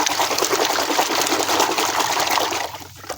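Water gushes and splashes steadily while muddy toy animals and trucks are rinsed clean, a close, continuous pour that eases off in the final half second.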